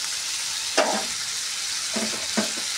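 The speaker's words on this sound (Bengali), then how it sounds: "এবার এগুলোকে ভালো করে একটু ভেজে নেবো লাল লাল করে" Chopped onions fry in hot oil in a pan for chili chicken, a continuous close sizzle with a few soft knocks and scrapes from stirring. No voices.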